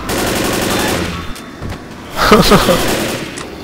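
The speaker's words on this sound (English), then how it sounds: "The rifle isn't bad, but if you are going to ski with it, try to crouch. And as best you can. And just fire a burst at them." Rifle bursts fired in the video game Left 4 Dead, with a rapid stuttering volley at the start and a second burst later, mixed with game noise and a voice talking.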